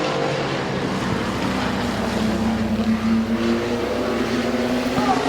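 Race cars battle for the lead at Midvale Speedway, their engines making a loud, sustained roar with rising and falling pitch as the pack runs through the turns.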